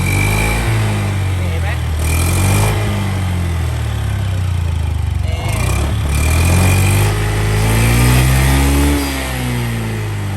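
A 2021 Honda Scoopy-i scooter with water coming out of its exhaust runs steadily close up, its engine note rising and falling with gentle revs while someone talks over it throughout.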